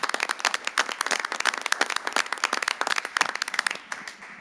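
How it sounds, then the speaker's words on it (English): Applause at a city council meeting: a dense burst of many hands clapping steadily for about four seconds, fairly close and loud, with no talk over it, thinning slightly toward the end. "let's give her one big round of applause."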